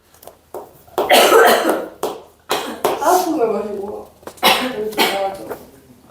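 A person coughs hard several times in harsh bursts up close, with talking voices between and after the coughs.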